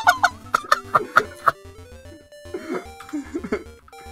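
The rooster in Link's Awakening DX gives a run of quick, chirpy electronic clucks, about six sharp squawks in the first second and a half, over steady game music.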